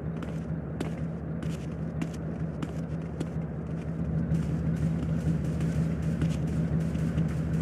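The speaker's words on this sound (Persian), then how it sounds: "ماشین بالاسا دارم میان این طرف" Gang cars roll up in a GTA San Andreas street scene, a steady engine rumble building slightly louder over several seconds, with scattered clicks and crackles on top.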